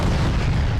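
A 125mm tank cannon firing in the Arma 3 video game, heard as a short, loud, booming blast with a dense low rumble that fills the whole moment.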